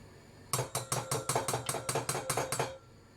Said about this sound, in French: je mets une grosse cuillère comme ça, qui dépasse un peu